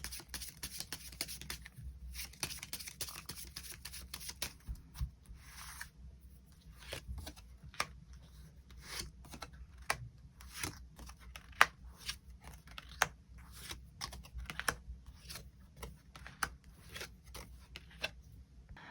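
Tarot cards riffle and slide against each other in a long, dense shuffle, followed by scattered crisp snaps and flicks as cards are drawn and laid down, close and fairly quiet.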